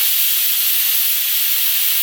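Pressure cooker cooking jackfruit seeds releases steam in a loud, steady, close hiss that holds without a break.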